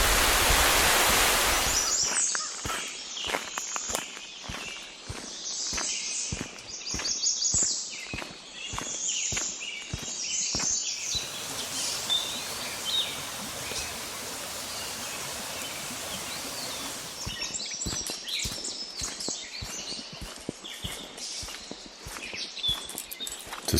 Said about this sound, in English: It is pouring out.